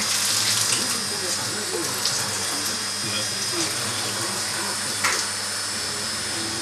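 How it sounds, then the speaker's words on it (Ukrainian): Water is flushed out of a water meter test system in a municipal water utility lab, a steady broadband rushing gush running continuously at moderate level with a few small splashes. "Виганяємо воду з системи."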